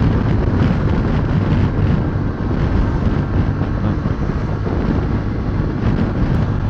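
A Honda XL750 Transalp motorcycle rides at speed, wind buffeting the microphone in a loud, steady roar over low engine drone, with no talking.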